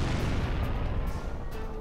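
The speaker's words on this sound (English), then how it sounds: "those explosions are making that thing get bigger and bigger" Explosions in the Jak and Daxter video game, a dense run of low booms and rumbling blasts with sharp bursts scattered through, loud and continuous without talk.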